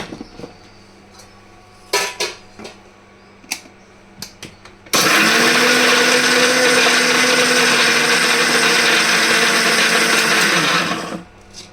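Spices for tomato chutney being ground with salt in a mixer grinder: a few sharp clinks of the jar being handled, then a loud, steady, close motor whir running for about six seconds before cutting off.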